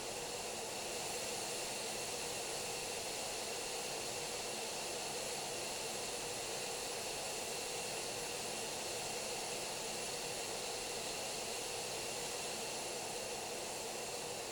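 An F-15E jet engine in a flight simulator whines and hisses steadily at idle after spooling up, a constant, even broadband roar with no talking over it.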